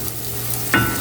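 Hot water is poured into a pan of curry gravy, a low sizzling stir under background hum that bursts into a sharper hiss about three quarters of the way through, with no voices.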